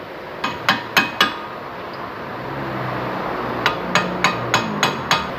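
Sharp metallic hammer strikes on a large Phillips screwdriver bit during car wheel bearing work, first four quick taps, then a pause, then about seven more in a steady rhythm, close up.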